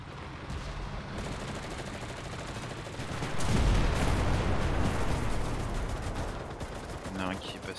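Anti-aircraft gun in the Enlisted video game firing rapid bursts at passing planes, a dense rolling barrage of gunfire and booms that swells louder midway and keeps going throughout.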